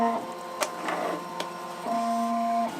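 A Ricoma EM-1010 embroidery machine tracing a design outline on a cap, giving a steady motor hum with a couple of sharp clicks in between, then a louder sustained whine as the frame moves, close and clear.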